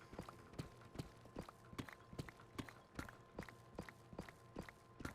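Donkey hooves clip-clopping at a steady walking pace in Minecraft, a regular run of crisp, fairly close hoof taps repeating about every third of a second over faint background hum.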